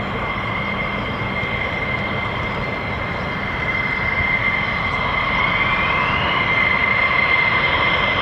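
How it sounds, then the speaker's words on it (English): Polish Air Force F-16 jets with conformal fuel tanks roar steadily overhead at a military exercise, a broad continuous engine rumble with a high whining tone that slowly shifts in pitch, heard from a distance without talk. "Polish Air Force F-16s, and you'll notice the conformal fuel tanks giving them extra range"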